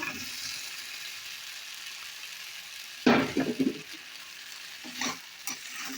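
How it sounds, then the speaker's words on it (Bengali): Spices and vegetables sauté in hot oil in a pan, giving a steady sizzle with louder bursts of stirring and scraping near the middle and again toward the end. "ভালো করে কষিয়ে নেবো"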